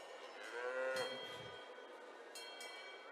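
Mountain-breed dairy cows at an agricultural show low faintly in a long drawn-out moo, with a second quieter call later against a hall's ambient hum and no nearby talk.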